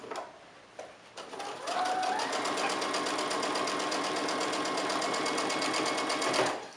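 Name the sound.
sewing machine stitching around a fabric mask edge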